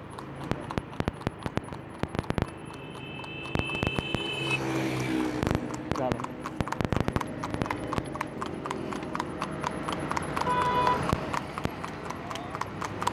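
A three-year-old Desi mare walking along a road, with hooves clip-clopping in a steady rhythm, close and clear, while someone talks and a passing vehicle hums in the background.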